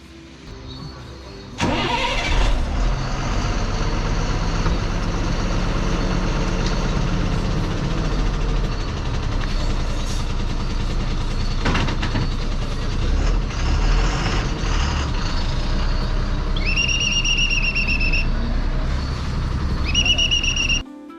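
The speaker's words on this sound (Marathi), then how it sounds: "बसच्या आत बसून कंडक्टर शिट्ट्या वाजवत रिवर्स घेत होता" A large bus engine idles and rumbles steadily as the bus reverses, then the conductor's two sharp whistle blasts sound near the end above the motor noise.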